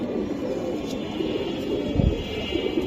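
A female Giribaz pigeon cooing nearby, a soft low murmuring coo that swells slightly toward the end, heard alone over steady room hiss.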